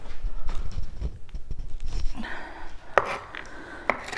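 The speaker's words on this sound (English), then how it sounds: "So I am just gonna kind of chop them up in a little bit smaller pieces." A kitchen knife chops pecans on a cutting board into smaller pieces, giving a quick run of close, loud chopping taps that loosens into scattered knocks with a few sharp hits near the end.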